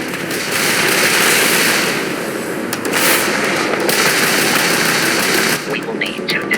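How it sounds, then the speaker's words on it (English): Spaceship weapons fire from a Crimson Fleet ship during ship combat in the space game Starfield: a dense, crackling barrage of rapid blasts, loud and continuous, with a few sharper hits toward the end. "that's a Crimson Fleet ship bringing its weapons to bear"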